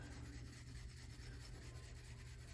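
Horsehair shoe brush buffing the sides of an estate tobacco pipe, a continuous soft rubbing and brushing close up, faint and steady with no talk.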